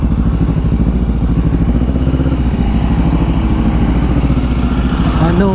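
A Honda adventure motorcycle's engine runs close by in Manila traffic, a loud, steady low pulsing idle with a fast even beat and no talk over it.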